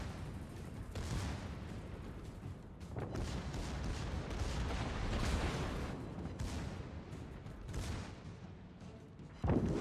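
Naval gunfire of high-explosive shells in the World of Warships video game: a continuous rumbling barrage of booms and blasts, moderately loud, ending in a sharper burst.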